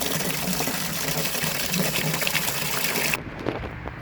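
Water draining steadily through a hole drilled in a blueberry planter, a close, continuous gushing trickle that cuts off abruptly near the end, leaving faint drips.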